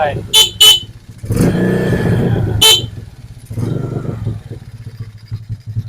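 A motorcycle horn gives several short, loud beeps near at hand, then a longer blast, with a person speaking between them.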